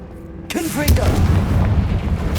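A Confringo blasting curse explodes in the Hogwarts Legacy video game with a sudden loud burst and a deep booming rumble that carries on steadily, while a voice is heard over the blast.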